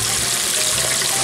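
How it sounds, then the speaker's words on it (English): Steady, dense sizzling of buttermilk-battered chicken frying in hot oil in a pot, a constant crackling hiss close by with no voices. "that's a perfect size pot right there for frying chicken"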